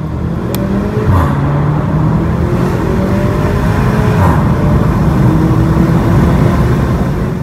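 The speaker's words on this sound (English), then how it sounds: "this engine is the same one found in the Volkswagen GTI" A four-cylinder engine in a 2020 Porsche Macan, shared with the Volkswagen GTI, revs up and settles in steady pulls, loud and close, with a constant droning hum throughout and no voices.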